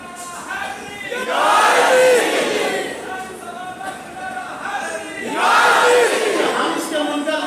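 A large crowd at a religious gathering chants slogans in two loud, swelling call-and-response bursts, voices roaring together then fading between waves.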